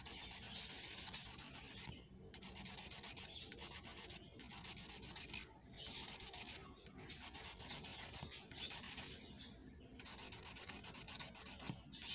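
Rhythmic rasping strokes of sandpaper against a PVC pipe, continuing in long back-and-forth passes with short gaps, up close.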